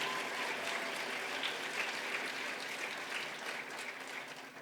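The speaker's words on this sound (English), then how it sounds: "give yourselves a round of applause" A room full of people at an International Women's Day event gives a sustained round of applause, a steady dense clapping that holds evenly before tapering slightly at the close.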